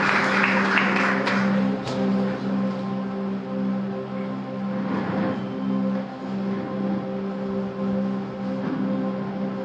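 A congregation at a Good Friday church service claps loudly for a couple of seconds, then more lightly, over steady sustained keyboard tones.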